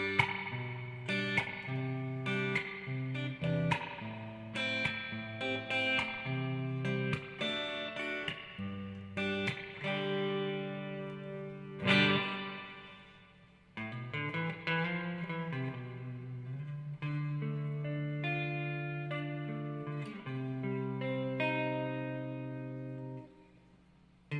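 Electric guitar played through a Peavey amp turned up to full with reverb, a run of ringing picked notes and chords with a big sustained strum at the midpoint, close and loud with no talking.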